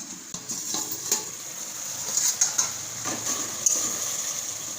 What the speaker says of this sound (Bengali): এবার নাড়াচাড়া করে দেবো একটু।